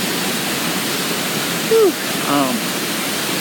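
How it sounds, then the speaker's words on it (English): A pretty waterfall rushes in a steady, loud wash of noise, with a person exhaling and making brief vocal sounds over it. "It's a really pretty waterfall, by the way."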